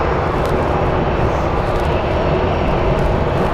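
An airplane roars at Phoenix Sky Harbor International Airport, a loud, steady, broadband engine rumble that fills the whole stretch without letup.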